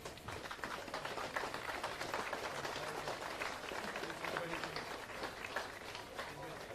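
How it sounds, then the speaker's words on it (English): A crowd applauds for two hurling teams after a senior county final at Cusack Park in dreadful weather, a dense continuous wash of clapping that stays fairly even for several seconds. "I'd like a round of applause for two magnificent teams"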